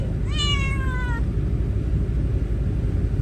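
A single clear, drawn-out meow from a tabby cat rises and then falls, set against a loud, steady low rumble of background noise.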